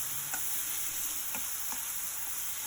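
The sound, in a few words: spring onion stalks and onion sautéing in a pan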